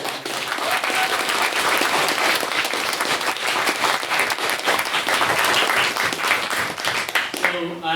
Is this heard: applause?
yes